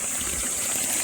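River water flowing steadily along a route in Montalban, Rizal, a continuous broadband rush with no distinct splashes, heard alone at moderate level for about a second.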